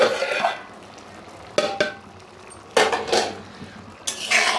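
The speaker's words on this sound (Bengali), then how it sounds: "এখন আমি ঢাকনাটা খুলছি" A lid lifted off a pot of simmering red lentils with potatoes and pointed gourd, followed by several metallic clanks and scrapes of a utensil against the pot, close and fairly loud with quiet gaps in between.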